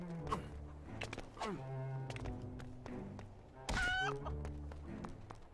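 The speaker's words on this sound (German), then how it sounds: "Das Huhn wollte ich nicht treten." Cartoonish chicken clucks and squawks mixed with thumps and game sound effects in LEGO Pirates of the Caribbean: The Video Game, several bursts over a busy background.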